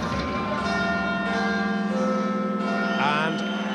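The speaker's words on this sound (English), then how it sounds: "we prepare for the arrival of Nigel Benn with, appropriately enough, the chimes of Big Ben" Big Ben-style bell chimes play as ring-entrance music for a boxer at a professional boxing event, sounding as a loud, sustained resonant tolling under a dense crowd and broadcast wash.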